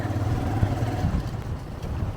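A motorbike rides through dense Congo rainforest, its steady low engine drone running continuously and fairly close with no pauses.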